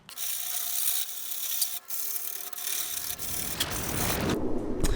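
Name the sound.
sanding off excess material in a car engine bay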